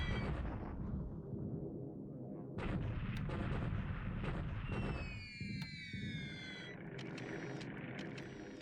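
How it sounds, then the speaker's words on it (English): Artillery bombardment in the World War II strategy game War in the Pacific, shelling in China: a dense, sustained run of booming shell blasts and crackling fire with brief lulls, loud and continuous throughout. "Now bombardment in China."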